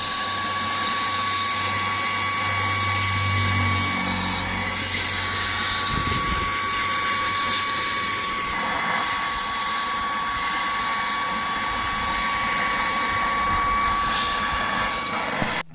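A Portronics Mopcop 4 car vacuum cleaner runs continuously with a high, steady whine and airy rush, its pitch shifting slightly as it sucks up dust near the microphone.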